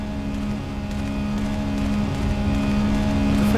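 A car engine in the PS2 survival horror game Silent Hill 2 drones steadily at a constant low pitch, a moderate continuous hum with no other sounds over it.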